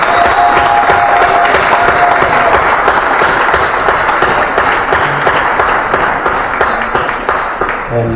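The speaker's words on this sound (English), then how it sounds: "We have one last big round of applause for all the adult volunteers." A large community gathering at a campus celebration for volunteer week gives a long, steady round of applause and cheering for adult volunteers, dense and loud throughout before tapering slightly near the end.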